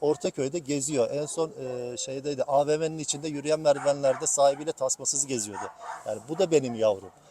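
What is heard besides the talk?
No distinct noise like a dog, phone or traffic.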